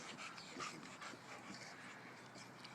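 A husky and a bulldog scuffle in a fight, with faint, continuous panting, whimpering and snuffling heard from a little distance.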